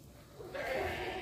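Traditional Boer goats bleat on a goat farm, with one short, nearby bleat rising over low background noise.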